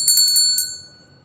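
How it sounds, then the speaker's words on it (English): Bell notification chime: a bright, loud, high-pitched ringing tone struck in a quick cluster of tings, then one more, before fading into a sustained shimmer, alone with no voices. "and I got the bell now."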